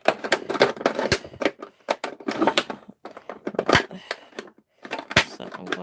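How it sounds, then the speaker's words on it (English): An X-Acto knife cutting through a plastic bottle, giving irregular crackling, crunching snaps and scraping bursts, close and fairly loud, with short pauses between cuts. "But I'm going to start cutting it first with my X-Acto."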